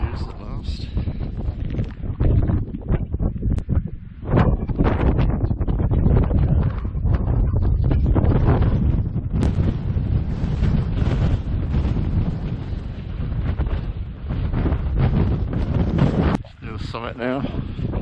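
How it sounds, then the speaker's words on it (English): Strong wind buffets the microphone on a mountain ridge along the Kaweka J traverse in New Zealand, a loud, continuous rough roar with gusty surges that barely lets up. "A bit windy this morning, but clear views at last."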